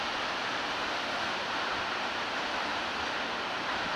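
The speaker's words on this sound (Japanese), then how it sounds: "華厳の滝です。" Kegon Falls waterfall in Nikko, Japan, seen on a snowy winter day, gives a steady, even broadband roar with no pauses, moderately distant and alone without voices.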